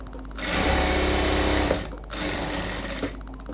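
A sewing machine stitches a dress made from a saree, its needle whirring in a fast, steady hum that pauses briefly twice before resuming, close and alone with no voices.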